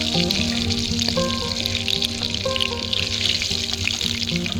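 Fish sizzle and crackle in hot oil, a constant dense frying hiss with faint tonal hum and clinks underneath.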